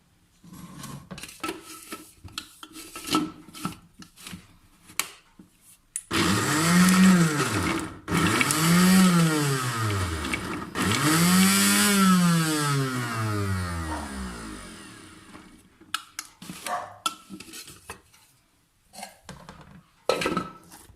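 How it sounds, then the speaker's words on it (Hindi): An electric grinder pulverises chicken shami kabab mixture with dal in several bursts, the motor whirring up and down in pitch for a few seconds at a time, loud and close, with clattering handling noises before and after. "इसको मैं थोड़ा थोड़ा करके सारा बारीक पीस लूंगी।"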